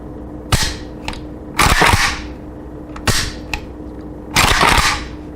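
Trigger pulls on a Russian AKM rifle, four loud, close metallic snaps spaced about a second apart, with lighter clicks between them.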